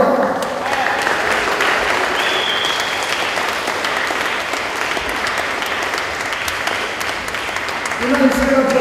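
Church congregation clapping together in a loud, sustained, dense wash of applause that holds steady for several seconds, with a voice emerging near the end.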